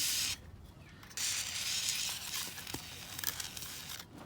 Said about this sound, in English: I'm going to spray it on here.